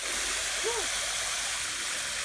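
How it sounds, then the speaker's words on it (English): Water tinted with food coloring pours out of a toy car wash, a steady broadband rush of flowing, splashing water lasting the whole stretch, with a brief child's vocal exclamation over it. "now press the button so the water can get out"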